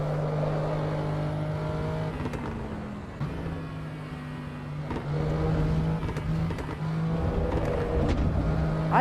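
A car engine in a racing video game played with a G29 wheel, a steady droning hum that shifts pitch as it revs and changes gear, with faint clicks throughout.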